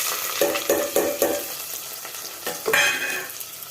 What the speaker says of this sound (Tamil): இது நல்லா ஃப்ரை ஆகட்டும் மக்களே